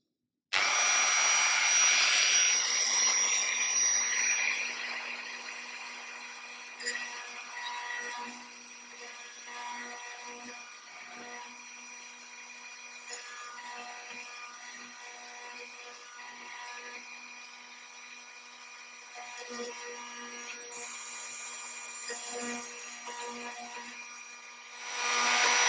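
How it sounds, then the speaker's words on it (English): A rotary diamond tool whines steadily as it cuts holes in a 1/400 Queen Mary 2 model ship hull. The high-pitched tone is loudest at the start and end, eases through the middle, and has small fluctuating grinding bursts. "then we're going to open it out using the diamond tool"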